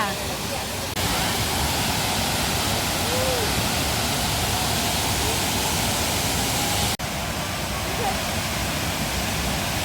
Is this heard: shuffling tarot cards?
no